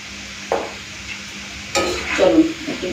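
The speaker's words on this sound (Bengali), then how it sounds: "চলুন একটুখানি নেড়ে চেড়ে নিই" Salted potato pieces frying in hot oil are stirred in a pan, with scraping and clattering strokes at intervals over a steady background sizzle.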